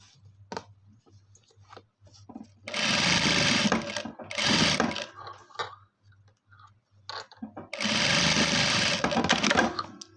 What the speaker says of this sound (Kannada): ಸ್ಟಿಚ್ ಹಾಕ್ಕೊಂಡು ಟರ್ನ್ ಮಾಡಿ ಟಾಪ್ ಸ್ಟಿಚ್ ಹಾಕ್ತಿದ್ದೀನಿ